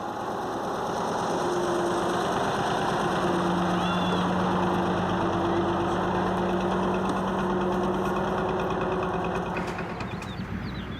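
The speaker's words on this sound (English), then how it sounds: "The engine must be running, and none of the passengers must fall off the lorry." A lorry's engine running at idle on an African dirt track, a steady close mechanical chug with constant rattling vibration and faint tonal hums, continuous from start to end.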